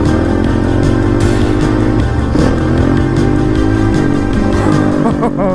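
A motorcycle engine runs loud and close during a wheelie attempt, its steady drone rising and shifting in pitch as the throttle is worked, with no talk over it.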